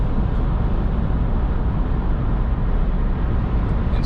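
Steady engine drone of a Chevy Silverado pickup with a 2.7L Turbomax four-cylinder, heard from inside the cabin while cruising, a constant low rumble with road noise and no talk.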